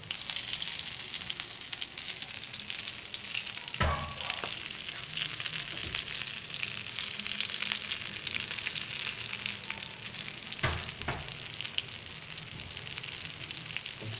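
Aloo tikki potato patties frying in oil over a low-medium flame, a constant even sizzle with a couple of brief clinks of a utensil against the pan, close and without talking.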